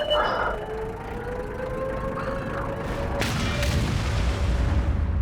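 Tank cannon fire in World of Tanks, with a deep booming shot and crashing impact over a constant low engine rumble, sharp reports near the end.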